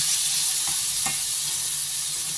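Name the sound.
corned beef frying in a pan with oil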